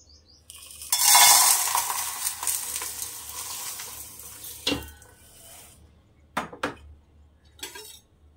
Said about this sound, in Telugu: స్టవ్ వెలిగించి గిన్నె పెట్టాను. ఇప్పుడు వీటిని ఫ్రై చేసుకుందాం.